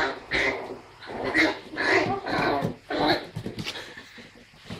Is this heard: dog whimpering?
yes